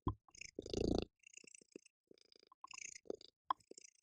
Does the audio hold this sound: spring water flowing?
no